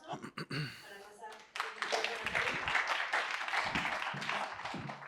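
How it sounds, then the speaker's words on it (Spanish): Audience applause and clapping for a history talk on great battles, starting with a few claps and then swelling into steady, dense clapping that carries on to the end, with some voices mixed in. "les pido un fuerte aplauso para pasar"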